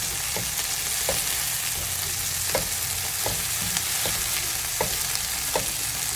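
Tomatoes sautéing in a pan for a Tirupati-style coconut chutney, a continuous close sizzle broken by regular scraping stirs of a spoon against the pan, with no talking.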